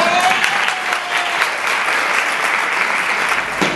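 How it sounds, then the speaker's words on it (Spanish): Sustained audience applause at a book presentation, dense steady clapping from a crowd lasting throughout, fairly loud and close with no talk over it. "a los cuales le pido un aplauso"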